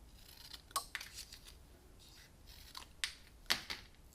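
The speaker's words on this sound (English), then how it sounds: "I'm going to start off first by cutting off the head, and then I'm going to cut off the arms" Scissors snip through paper to cut out reindeer pieces for a handmade note card, several crisp close cuts spaced irregularly across a few seconds in a quiet room.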